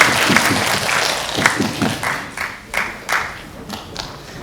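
Applause from the audience at a Korean onggi and ceramics culture symposium, welcoming a speaker. Dense clapping starts loud, then thins into scattered, separate claps as it dies away.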